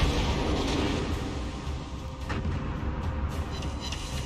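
Naval artillery shells firing in World of Warships, heard as a dense, continuous booming rumble with heavy low-end roar throughout, louder at the start and rolling on without clear gaps.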